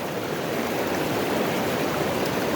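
An Icelandic river flowing at Kaldárhöfði, a trout and char beat: a dense, continuous rush of moving water, close and loud, unbroken from start to finish with no voices.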